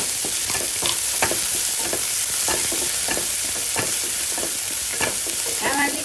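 Finely chopped onion and garlic cloves fry in oil for a spicy garlic fenugreek-leaf dish, giving a steady close sizzle broken by frequent scraping clicks of a spoon stirring the pan.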